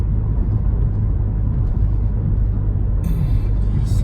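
Car engine with a damaged, failing muffler, revving under acceleration on a highway: a loud, rough, continuous low rumble and drone that holds steady close by, with a brief hiss of higher noise near the end.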